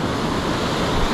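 Ocean surf rolls in on a San Diego beach during a morning fishing session, a loud, steady wash of breaking water with no voices.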